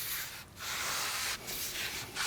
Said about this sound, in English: use a little brake clean on a rag and wipe down the pad surfaces of the rotor